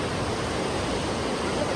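Jaban waterfall in Malakand, rushing water as a dense, steady roar that fills the whole moment without pause.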